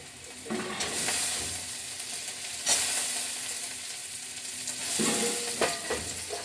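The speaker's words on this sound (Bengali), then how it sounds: "পেঁয়াজটা একটু ভেজে তারপরে তার মধ্যে আলু দেবো।" Potatoes tipped into onions already frying in a pan, with a steady loud sizzle throughout and sharp bursts of crackling near the start, in the middle and toward the end as pieces hit the hot oil and get stirred.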